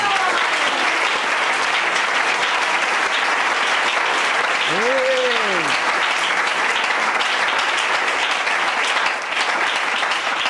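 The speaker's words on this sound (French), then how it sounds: "Pour la race royale, on acclame Jésus." A church congregation applauding continuously and loudly in acclamation during a service, a dense sustained clapping wash with a brief sung or shouted vocal swell rising over it midway.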